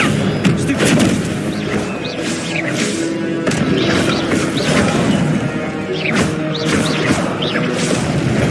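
Repeated Incendio fire spells are cast in the Hogwarts Legacy video game, each a loud, close, blasting whoosh. The bursts come in quick succession over continuous combat noise.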